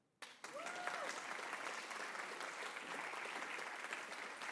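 Sustained applause from a lecture audience at the 2025 Mary Ann Shadd Cary Lecture breaks out suddenly and holds steady as dense, even clapping from a sizable crowd, with a faint tonal squeal briefly audible early on.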